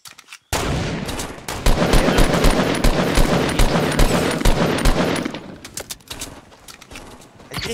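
Rapid semi-automatic gunfire in the video game 14 Days, beginning after a short silence and going on as loud, close bursts of sharp shots for several seconds before thinning out into scattered single cracks.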